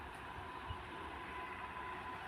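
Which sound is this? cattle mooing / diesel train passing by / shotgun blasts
diesel train passing by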